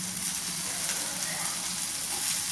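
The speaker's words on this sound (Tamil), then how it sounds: "இப்போ மீன் நல்லா வறண்டு வந்துருச்சு பொன்னிறமாக" Seer fish sizzles steadily in hot oil in a pan, a continuous close frying hiss with no talk.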